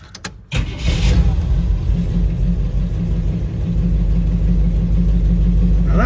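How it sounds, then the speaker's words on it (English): V8 engine of a 1959 Ford wagon catches after a brief crank and settles into a loud, steady rumbling idle close by, running alone without talk. "Now that sounds like an 8-cylinder."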